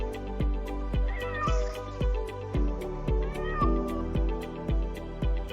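A cat meows loudly twice over a steady rhythmic thumping, like a repeating beat.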